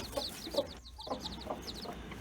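Hens cluck softly on a petting zoo farm, a scatter of short, fairly faint clucks and calls over quiet outdoor background, with no voices.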